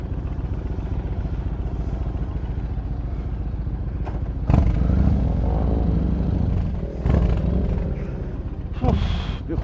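A generator is backed up during a motorcycle ride-out: a steady low engine rumble with clattering bumps and a few sharp knocks and scrapes, loud and close throughout.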